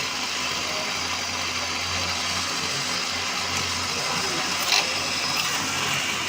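A Daihatsu Xenia engine idling with the air conditioner belt and pulley turning, a steady even mechanical hum with a faint whine and a brief click near the end.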